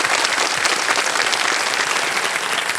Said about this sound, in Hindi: एक बार इनके लिए ताली बज जाए।